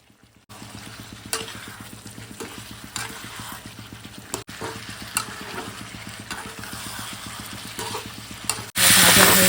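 Ground spices and chilli powder frying in oil for a fish curry, a steady sizzle under rapid rhythmic stirring strokes close up, ending in a sudden louder burst, with no talking.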